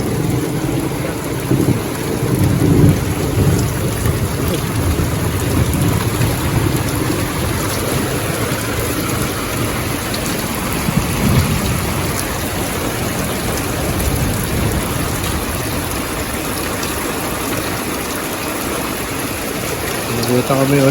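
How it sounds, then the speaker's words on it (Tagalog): Heavy rain pours steadily on a rural farm during a typhoon, a dense continuous roar close by with low rumbling underneath; people talk over it at times. "Ay, lakas ng ulan."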